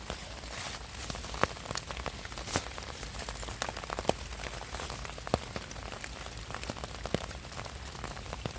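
Gentle, steady rain patters softly in a forest in Germany in winter, with scattered individual drops tapping a little louder now and then; no voices.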